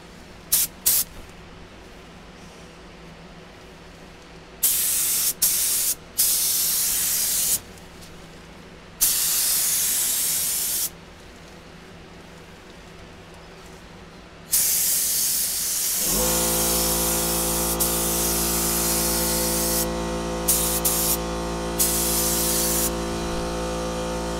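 A cheap Harbor Freight HVLP spray gun lays 2K clear coat onto a car headlight: several short, sharp hissing bursts, then a long, loud continuous spray with a steady tonal hum underneath, close to the mic.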